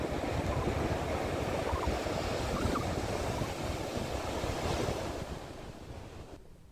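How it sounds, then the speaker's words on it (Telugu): Rough seas churn near Palakayathippa in Krishna district during Cyclone Ditwah, a continuous heavy roar of crashing surf mixed with gusting wind buffeting the microphone, easing off toward the end. "భారీ అలలు ఉవ్వెత్తున ఎగసి పడుతున్నాయి."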